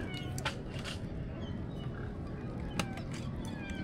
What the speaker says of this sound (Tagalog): May mga pusa